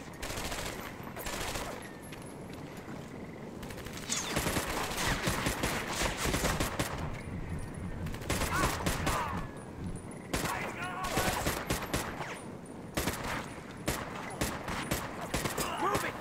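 Shots crack in rapid volleys from Medal of Honor: Vanguard combat, loud close bursts with short pauses between them, with a player speaking at times in between.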